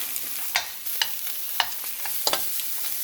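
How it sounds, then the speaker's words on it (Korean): Spam and a heaping tablespoon of garlic stir-fried together in a pan over a gas flame, for a spicy gochujang stew with zucchini. A soft, steady sizzle runs under sharp, irregular spatula scrapes and taps, close by, with no talking. "마늘을 한 큰술 넣고 같이 볶아줍니다."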